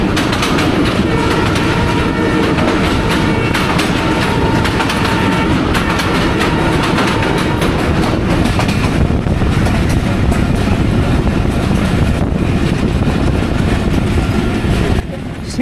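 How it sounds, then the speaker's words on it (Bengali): The Kanchan Commuter train runs along the rails on a winter morning, its wheels giving a loud, continuous clickety-clack and rumble heard up close from on board throughout. "আমাদের ট্রেন কিন্তু হুশ হুশ করে এগিয়ে চলছে।"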